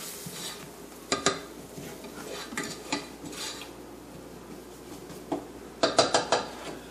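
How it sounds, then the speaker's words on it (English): Spices being stirred into onions in a pan, with a spoon clinking and scraping against the metal in sharp bursts, the clicks clustered near the end over a faint, steady sizzle. "give this a good quick mix so the spices can start blooming in the onion"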